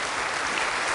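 Studio audience applause at a 1981 German TV entertainment show, a dense steady wash of clapping filling the whole brief moment with no voices.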